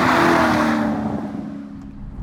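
A Chevrolet Corvette C6 with a 436-horsepower LS3 V8 pulls hard while driving on a public road, its loud engine note rising at first, then settling into a steady throaty drone that tapers slightly.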